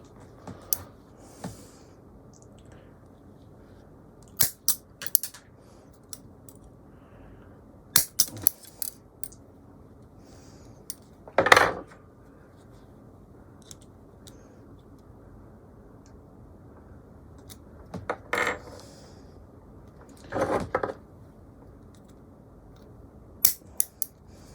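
Wire is snipped into three short legs for a mini bonsai stand, giving sharp isolated cutter clicks and snaps scattered at irregular intervals over a quiet background, close by with no talk.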